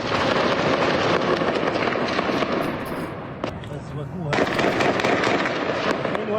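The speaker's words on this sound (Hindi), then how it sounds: "और जरा आप फायरिंग की आवाज सुनिए।" Gunfire during clashes in Hebron, West Bank rings out in dense, rapid bursts of sharp cracks and pops, loud and sustained, easing briefly midway before the heavy shooting resumes.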